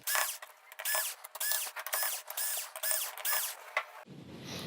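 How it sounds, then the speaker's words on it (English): Rhythmic ratcheting clicks and squeaks of a screwdriver turning out silver screws from a metal plate covering the T-Con board inside a Sony XBR-65X850E TV, repeated turns close by, then a brief handling rustle. "we are going to get the silver screws removed here from this plate that is covering the T-Con board"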